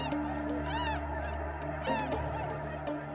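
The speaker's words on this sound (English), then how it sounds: "You have flocks of protected swans flying amongst thousands of geese" A dense flock of snow geese honking continuously, many overlapping calls at close to mid distance, with a steady low background rumble, in Saskatchewan.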